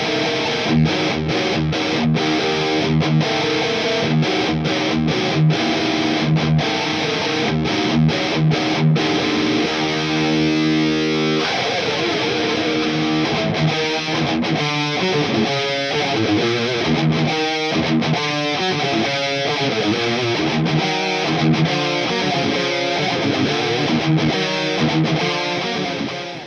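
Heavily distorted electric guitar through a Boss Katana MkII amp playing a rhythm part, loud and dense, with sparse picked notes giving way to chugging palm-muted riffing.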